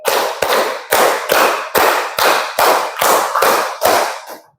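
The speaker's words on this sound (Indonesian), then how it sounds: "tepuk 5 2 kali." Hands clap out a hand-clapping rhythm game in a room, about ten sharp, loud claps in a fairly steady beat, close by and with no voices over them.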